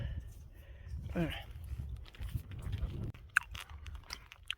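Someone chews a Hi-Chew candy that fell onto gravel on a hiking trail, with soft crunching and gritty bites close to the microphone amid outdoor rustle and a few sharp clicks.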